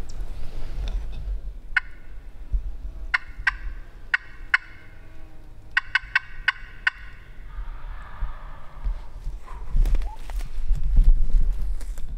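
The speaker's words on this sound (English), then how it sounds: "see if one will gobble to a slate gobble" A wild turkey gobbles back from a distance after a series of sharp, evenly spaced scratches on a slate call, in spring woods during turkey season; the strikes come in short bursts, then a rolling gobble answers.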